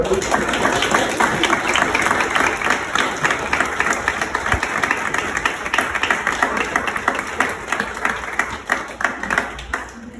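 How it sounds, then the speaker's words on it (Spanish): An audience at a talk on 2D animation and stop-motion claps in sustained, dense applause that stays loud and even for about ten seconds. "Un aplauso, por favor."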